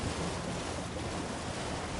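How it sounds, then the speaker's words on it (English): Steady broadband rush of rushing water from a waterfall in Elden Ring: Shadow of the Erdtree, a continuous dense roar holding even throughout, with no voices over it. "And there is nothing behind that waterfall."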